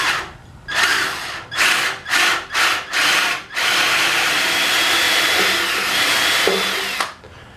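A power drill fitted with a larger bit bores a hole in wood for a hook on a musical instrument storage rack. Five short, loud whirring bursts come first, then one sustained run that stops abruptly.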